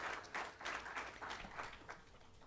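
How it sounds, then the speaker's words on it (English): Audience applause honoring Erica Williams Connell at a memorial lecture, a fairly faint, steady patter of clapping with soft rhythmic swells throughout. "So now we can clap her."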